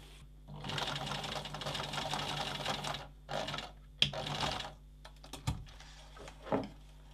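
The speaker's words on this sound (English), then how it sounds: "we're going to make this strap into a circle by sewing a 1 centimetre seam" A sewing machine stitching a one-centimetre seam across the end of a fabric purse strap, running in a long steady burst, then shorter runs and stops with small clicks, close and loud.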